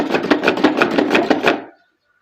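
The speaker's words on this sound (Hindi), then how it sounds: "कटर में हम आलू को गोल गोल से इसके स्लाइसेस काट लेंगे।" A kitchen cutter slices large peeled potatoes into round slices, giving a quick, even run of about ten crisp chopping strokes that stops abruptly and leaves silence.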